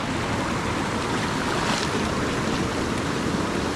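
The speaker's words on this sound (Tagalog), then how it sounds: "Yan ang lakas ng ulan, eh." Heavy rain driven by strong wind sweeps over open farm fields in bad weather, a dense, steady roar of downpour and gusts filling the whole stretch without pause, loud and close with no voices.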